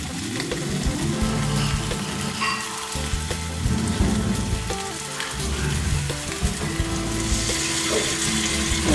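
Tamarind water hits a hot pan and sizzles hard and steady, a dense close frying hiss that runs unbroken throughout with faint stirring underneath.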